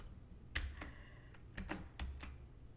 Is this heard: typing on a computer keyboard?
yes